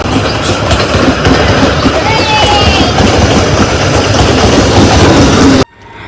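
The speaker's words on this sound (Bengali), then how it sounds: "ঠিক কয়েক সেকেন্ড পরে ট্রেনটা চলে আসবে এখানে, যে এখানে দাঁড়াবে আবার" Loud, close rumble and clatter of a train pulling into a Kolkata station platform near Tollygunge, with rhythmic wheel clicks and a faint high squeal, cutting off abruptly near the end.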